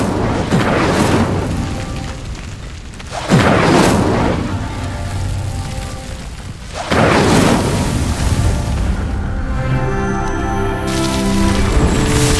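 In Hogwarts Legacy, the Incendio fire spell ignites pyres in three loud, deep whooshing bursts of flame a few seconds apart, each followed by a sustained roaring burn.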